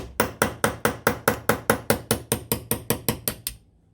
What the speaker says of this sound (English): lay that on a wrench block, take your punch, kind of push that out of the way